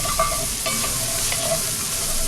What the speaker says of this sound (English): now we're going to just mix that